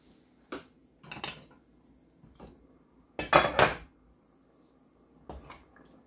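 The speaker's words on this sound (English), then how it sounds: "We're going to go ahead and peek in the Dutch oven here, because it's already at a rage boil." A metal lid clinks and clatters as it is lifted off a Dutch oven of pumpkin soup on the stove, a few separate knocks and a louder double clank near the middle, with quiet gaps between and no talk.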